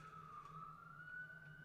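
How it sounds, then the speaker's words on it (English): A high-pitched siren wails at a 2001 Reds–Indians baseball game in Cleveland, a steady, slowly wavering tone that holds throughout, faint and distant over the ballpark hum. "That's a pretty high-pitched siren."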